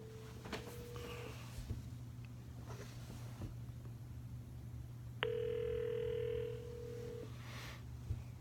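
A phone line on hold to the Apple Store plays ringback tones, two long electronic tones separated by quiet gaps, over a low steady hum.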